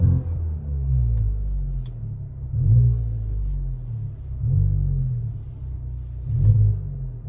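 A Hyundai i20N's engine gives a deep low rumble that swells in repeated surges, the revs rising and falling several times, close up with no voices.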